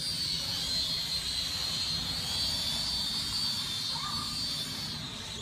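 A toy quadcopter drone from the JJRC H10, Syma X5C and YD 829 range hovers outdoors in wind. Its tiny motors give off a steady, loud, high-pitched whine that holds constant across the whole stretch, with no talking.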